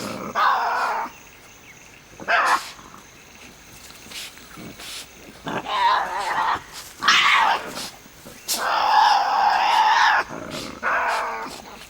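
Tasmanian devils growl and snarl in harsh, rasping bursts that come and go in several rough outbursts, some loud and close, with quieter gaps between.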